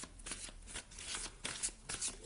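Oracle cards are shuffled by hand in a series of quick, crisp riffling bursts, close and fairly quiet, with no talking.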